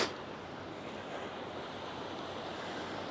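Calm ocean surf rolls onto a beach at Fort Myers Beach, a steady, broad wash of waves with some wind noise on the microphone and no speech.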